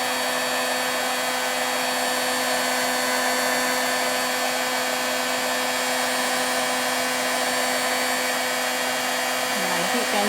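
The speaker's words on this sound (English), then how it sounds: "Heat gun's getting really hot" Steady, loud whooshing roar of a heat gun blowing continuously to melt embossing powder on a stamped home décor heart, with no pauses and no voices.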